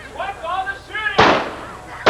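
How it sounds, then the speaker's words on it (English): Sharp gunshot bursts ring out during a Universal Studios stunt show, a loud crack followed by a decaying echo, with voices speaking just before and another crack at the end. "What's all the shooting?"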